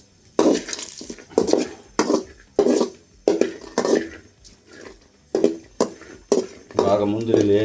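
A spoon repeatedly scrapes and stirs semolina roasting in ghee in a pan for rava kesari, a close run of rhythmic metallic scraping strokes, with a voice speaking near the end.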